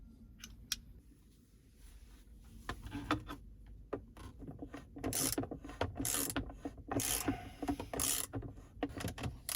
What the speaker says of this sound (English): I'm going to use an extender as well, a ratchet wrench, and this screwdriver, so it goes much easier.